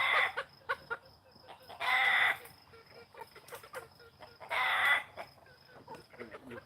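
Rooster on a farm crowing twice, close and loud, with quieter clucks and scratching noises between the two crows.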